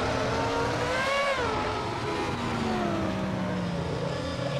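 A V10 engine in a Dacia Logan revs in a driving game, its pitch sweeping up, dipping briefly and climbing again in third gear, loud and close with no talk.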